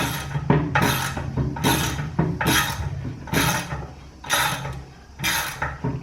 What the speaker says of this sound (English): you can start pressing in the bearing. And it should go in relatively easy, and you can see it's pressing in very nicely